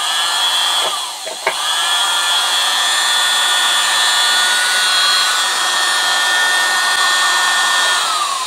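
A badly abused electric motor runs steadily and strong, a loud continuous whine with stable high tones, briefly dipping once near the start before settling into an even drone.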